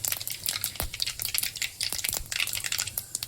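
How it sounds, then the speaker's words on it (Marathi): Dense crackling and popping of seeds spluttering in hot oil, rapid and irregular, close by with a low steady hum underneath. "जिरे मोहरीची फोडणी टाकलेली आहे. टटर करत आहे."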